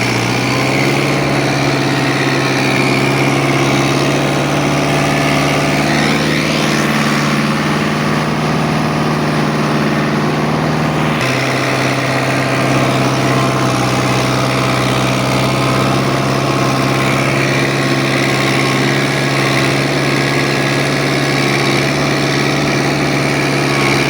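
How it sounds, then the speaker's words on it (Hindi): A tractor-drawn cultivator's engine runs steadily in a field being prepared for losan fodder grass, a loud, continuous drone with a slight shift in pitch about halfway through. "आइए अब कल्टीवेटर चलाते हैं।"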